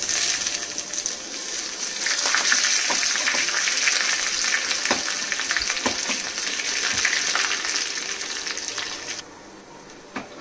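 Garlic tempering frying in hot oil for Andhra rasam, a loud, continuous crackling sizzle close by with scattered pops, dropping off abruptly near the end; no speech.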